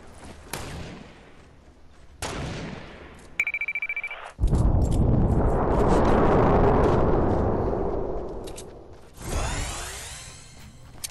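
Grenade launcher blasts go off in Fortnite. Several sharp booming explosions burst out, one swelling into a long, rumbling roar before a last burst.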